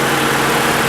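A 1989 Honda Accord LXi engine idles just after a cold start, a steady, close, low mechanical hum with a fine even rumble and no talk.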